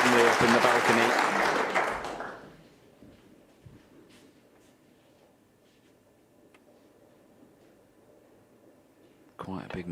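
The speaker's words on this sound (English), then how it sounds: "So well done, applauded on by his family up in the balcony." An audience at the 2024 World Snooker Championship final applauds in a short, firm burst that dies away into near silence, followed by a brief sound at the end.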